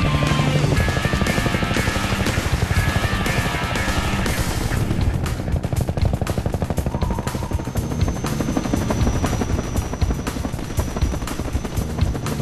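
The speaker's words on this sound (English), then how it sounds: "There's my helicopter." A helicopter arriving in the video game Minerva: Metastasis, loud continuous rotor thumping and engine whine filling the scene.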